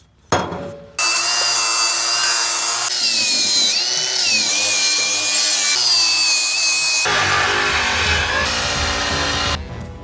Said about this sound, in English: let's get the grinder out and undo the work we did